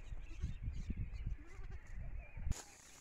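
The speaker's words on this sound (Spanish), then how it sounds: "Este es el hijo de la cabra." A goat and her young kid bleat outdoors, a few short calls rising over faint rustling and shuffling movement, one sharper cry near the end.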